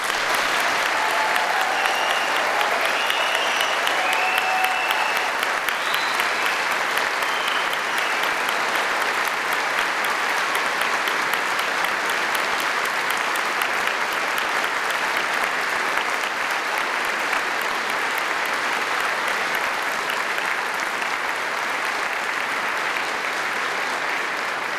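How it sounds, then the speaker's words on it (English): Sustained, dense applause fills a hall at a degree ceremony in Scotland, a loud and steady clapping crowd that carries on without break for well over twenty seconds. "So I'd like everyone here to give you a round of applause, because we know how hard that's been."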